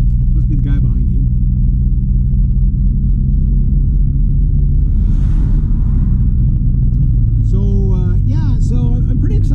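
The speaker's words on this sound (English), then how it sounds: "I hear a diesel behind me." A diesel vehicle rumbles steadily from behind, a low continuous engine drone on a road with traffic, while a person talks over it and other engine noise passes.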